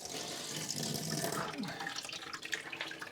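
Water runs steadily while flushing the coolant jackets of a Princess 2200 HLS boat engine indoors, a continuous close splashing gush like a running tap with small surges and drips throughout.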